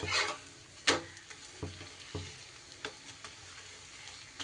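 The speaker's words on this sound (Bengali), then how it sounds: "সবগুলোই এইভাবে মুচমুচে করে আমি ভেজে নিচ্ছি।" Methi paratha frying until crisp in a pan gives a soft steady sizzle, broken by a few sharp clicks and taps of a spatula against the pan.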